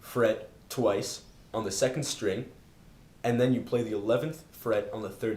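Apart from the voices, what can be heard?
None of the usual background noises is heard.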